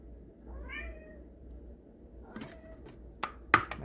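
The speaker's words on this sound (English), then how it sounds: "My cat has come to help us make coffee." A cat gives a single clear meow in a kitchen during coffee making. Soft clattering and a couple of sharp knocks follow a moment later.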